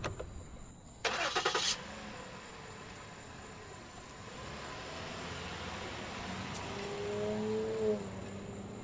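A car engine starts and the vehicle drives away as a radio drama sound effect, a short burst of starter cranking followed by a steady low engine drone that swells slightly as it pulls off, with no voices.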